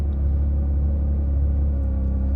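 The flat-six engine of a 2023 Porsche GT3 runs at a steady idle, a loud, close, continuous deep rumble with no change in pace and no voices.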